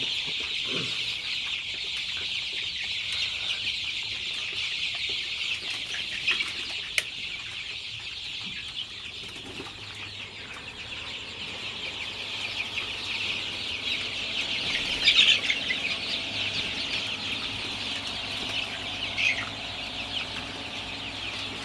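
Sonali super hybrid chicks cluck and peep steadily in a brooding shed, a continuous high chorus of many young birds with a few louder calls rising above it, fairly close and without talk.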